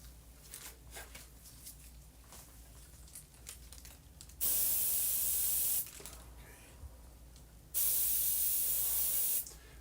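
Spray paint hisses through a stencil in two loud, steady bursts of about one and a half to two seconds each, with quiet shuffling and faint handling noise between them.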